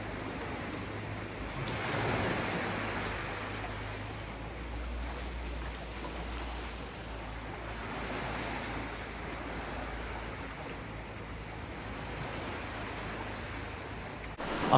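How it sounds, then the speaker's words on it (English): Surf at a small, secluded sea cove on Phi Phi, a steady wash of waves breaking close by with a wind-like roar throughout, no voices. "I've come to my own little cove."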